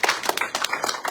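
An audience at a church inner-healing and deliverance seminar claps their hands, a short burst of dense, fast clapping that sounds close and fills the room, with no talking over it.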